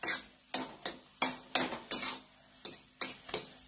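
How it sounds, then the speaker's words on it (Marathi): Spoon strokes through a spiced potato patty mixture in a bowl, sharp scraping clacks repeating in an irregular rhythm about every third of a second, close and fairly crisp with no voices. "आता हे मिश्रण चांगलं हलवायचं."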